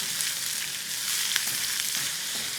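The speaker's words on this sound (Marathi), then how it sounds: "कांद्यावर मीठ म्हणजे कांदा पटकन परतला जातो." Sliced onion frying in hot oil in a pan for a Kolhapuri mutton dish, a steady close sizzle with faint crackles throughout and no talking.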